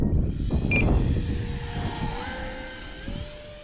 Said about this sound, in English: a 12-bladed EDF fan I got in there